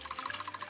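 Water is poured into a spinning tornado tube, a soft continuous splashing trickle with a low steady hum underneath, close and fairly quiet.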